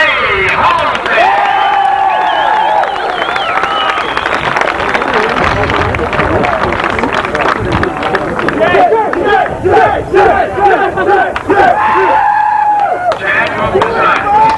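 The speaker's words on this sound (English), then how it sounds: "Big round of applause, if you will" Loud crowd cheering and shouting rings out at a 1988 RC car race as a Team Associated driver is introduced. The roar is sustained and dense for the whole stretch, with individual voices and whoops rising above it.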